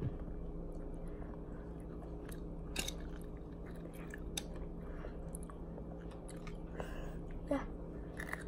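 Someone bites into and chews food up close, with soft crunchy chomps and squishy mouth sounds over a steady low background hum, a few sharper bites standing out.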